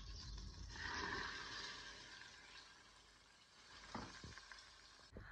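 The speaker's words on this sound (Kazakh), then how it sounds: "Ыдысымызға кішкене түбіне май құйып, бір жуып алған күрішімізді салып, жақсылап қуырып аламыз." Washed rice fries in a little oil at the bottom of a pot, a soft, steady sizzle with occasional stirring and scraping, and no talk.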